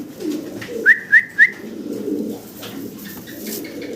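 Pigeons coo softly at a show or sale of fancy breeds, low murmuring coos with a few short bright whistles or squeaks, fairly close, and no speech.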